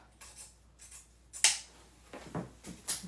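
Scissors snipping the ribbon tails of a grapevine wreath, a few short crisp cuts spaced over a few seconds, close and fairly quiet with no talking.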